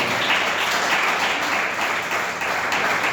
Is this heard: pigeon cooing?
no